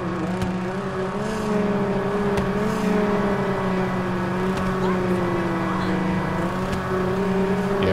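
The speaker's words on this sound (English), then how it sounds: "Yeah, both of our cars are loud." Loud race-car engines in the GTA 5 video game, including a McLaren, droning steadily with a sustained, slightly wavering tone and faint revving, close and continuous throughout.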